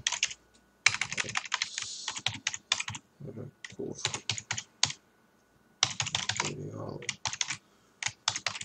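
Java code being typed on a computer keyboard: bursts of quick, close key clicks broken by short pauses, with a voice speaking briefly in a lull.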